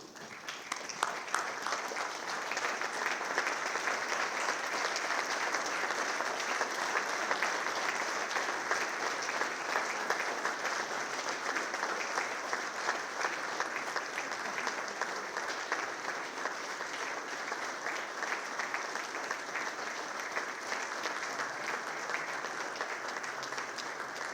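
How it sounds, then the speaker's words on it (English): An audience at a university athletics hall of fame ceremony giving a standing ovation, sustained dense clapping that carries on evenly for the whole stretch, fairly distant and soft, with no speech over it. "I'd love for you to get a standing O."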